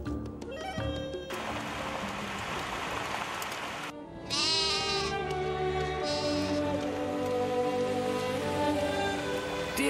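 Goats bleat repeatedly in a poor village, several wavering cries overlapping one after another, close and fairly loud against a constant background of animal and crowd noise, with no talk.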